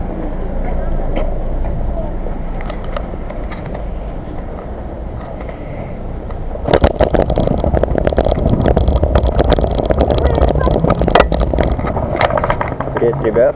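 A vehicle driving home through snow on an early evening, a steady low engine and road rumble that grows louder and rougher partway through, heard from inside.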